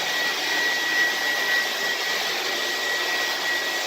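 A vintage 1970s Air Way Sanitizor Mark V vacuum cleaner runs with a steady, loud motor roar and a faint high whine, holding constant and close throughout with no talking.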